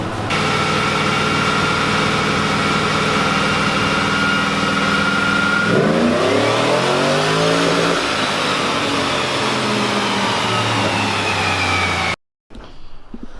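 A Procharged Chevrolet C10 truck engine roars on a dyno in second gear, a loud steady whine climbing and dropping with each rev, supercharger pitch sweeping through the run before a brief cut.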